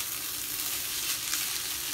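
Egg stir fry sizzles steadily in a pan as it is stirred, a dense, even hiss close up with a faint scrape of movement and no talking.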